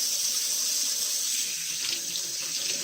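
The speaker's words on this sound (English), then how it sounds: "Enter your hands into the water. Get them nice and wet." Hands being washed under a running sink tap, with a steady, fairly close hiss of flowing water and soft splashing throughout, no voices.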